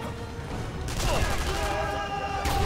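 Mounted gun firing in the World War II shooter game Sniper Elite V2, a dense continuous burst of gunfire rising over the game soundscape, loud and close.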